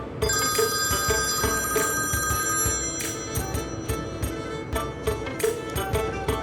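A telephone rings on and on, unanswered, its bell repeating in steady bursts over a busy background of music and ambient sound.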